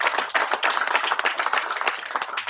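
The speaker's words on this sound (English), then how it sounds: "I think you should give her a big round of applause" A round of applause from the audience at a commissioning ceremony for a ramp and pump station, dense steady clapping from many hands filling the moment, fairly close and even throughout.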